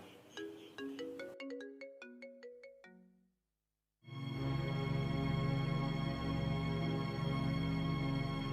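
A mobile phone ringtone plays unanswered: a quick run of bright plucked melodic notes, a brief pause, then a loud sustained buzzing ring tone continuing steadily, close and with no voices.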